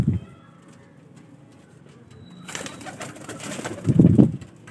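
Pet pigeons, young Royal Teddy birds, coo softly in a close indoor setting, with a faint coo at the start, a stretch of rustling and fluttering, then a louder throaty coo near the end.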